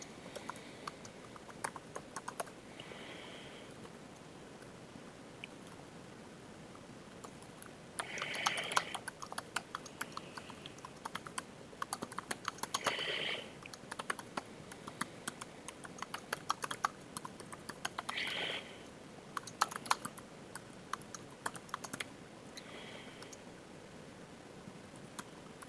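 Keys of a computer keyboard clatter in irregular bursts as a sentence is typed, with quieter pauses between flurries of keystrokes, fairly close and moderately soft.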